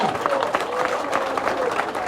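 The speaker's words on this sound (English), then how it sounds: "clap for the power, clap for the power." A crowd claps steadily throughout at an outdoor welcome event for a president and first lady in a Kono District chiefdom, with voices mixed into the dense applause.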